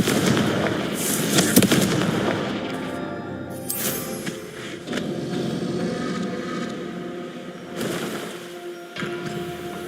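Confringo fire-blast spells in Hogwarts Legacy going off as repeated bursting booms with crackle over a busy game soundscape, loudest early on and again near the end.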